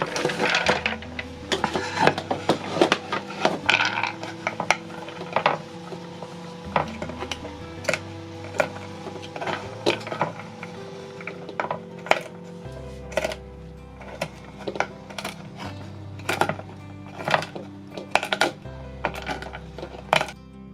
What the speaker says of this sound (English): I'm going to roughly chop the almonds